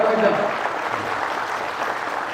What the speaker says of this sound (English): Everyone, please give a big round of applause and welcome to Angomcha Bimol